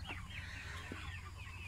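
Backyard chickens cluck near a garden greenhouse, a few short soft clucks and chirps over a low steady hum, faint and without talk.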